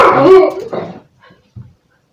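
A dog gives a few barks and yips close by, a loud burst at the start followed by a couple of fainter short calls and then quiet.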